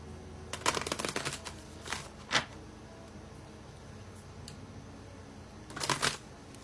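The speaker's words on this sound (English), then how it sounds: "Let me shuffle and get one." Tarot cards are shuffled by hand in quick riffling bursts, a rapid flutter followed by a couple of single snaps and a final riffle, close and fairly quiet.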